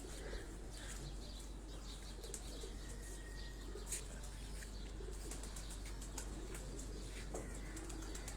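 Pigeons in a rooftop loft of mixed paired birds, soft cooing and fluttering wings under a steady low background hum, with scattered faint chirps throughout.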